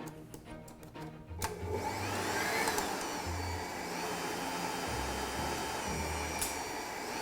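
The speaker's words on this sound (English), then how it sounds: "I'm going to use a dough hook to get this going." A stand mixer with a dough hook kneads Armenian sweet bread dough. A few clicks open it, then the motor settles into a steady whirring drone, broken by dull periodic thumps as the dough slaps around the bowl.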